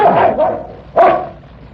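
A dog barks in an old radio mystery drama, two close, gruff barks a moment apart with a slight whine, alone and without any talk over them.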